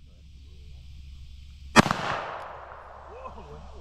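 A single loud pistol shot from a Ruger LCP .380 loaded with defense rounds, fired outdoors at a steel target, cracks sharply and decays over faint background hum.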